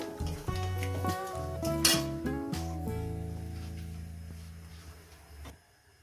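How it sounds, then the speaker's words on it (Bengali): A spoon clinks and scrapes against a pan while spices are stirred briefly in hot oil for a fish and potato dish, with a few sharp metallic knocks over a soft sizzle that fades toward the end. "একটু কয়েক সেকেন্ড একটু তেলের মধ্যে একটু নাড়াচাড়া করে নেব"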